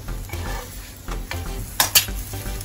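Aloo pyaaz paratha frying in oil on a pan, a soft sizzle with scraping and stirring clatter of a spatula, plus a couple of sharper knocks near the end.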